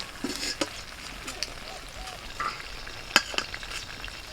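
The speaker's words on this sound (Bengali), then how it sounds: "একইভাবে বাকি বেগুনগুলো ভেজে নিচ্ছি।" Eggplant slices frying in hot oil, a steady soft sizzle with a few sharp crackles and pops scattered across the moment, close and fairly quiet, with no voices over it.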